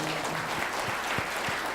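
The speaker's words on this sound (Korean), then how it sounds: "박수도 한번 치시려면 세게 한번 치시라고" Audience applause at a Korean international donation culture conference, a steady dense wash of clapping from a large hall crowd lasting the whole stretch at moderate level, with no voices over it.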